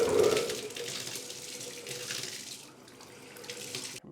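Water gushes steadily from a new tub shower faucet with a handheld sprayer as it is flushed out, a close, continuous hiss and splash that eases slightly partway through.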